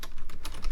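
Rapid typing on a computer keyboard while entering Java code, a dense run of close, crisp key clicks with no speech.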